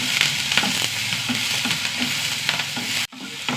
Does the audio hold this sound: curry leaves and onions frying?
yes